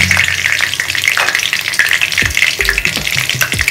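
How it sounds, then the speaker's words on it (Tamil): Curry leaves frying in hot oil, a dense, continuous crackling sizzle with sharp spitting pops, close and loud, with no voices over it. "எண்ணெய் நல்லா காஞ்சிருச்சு, இதோட கறிவேப்பிலை போட்டுக்கேன்."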